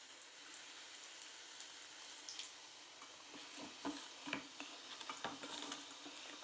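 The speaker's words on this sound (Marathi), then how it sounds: "तेल गरम झालेलं आहे आणि आता ही मिरची मी तेलामध्ये सोडणार आहे" Green chillies frying in hot oil for pakoras, a steady, faint crackling sizzle with small pops, heard close by and without talk.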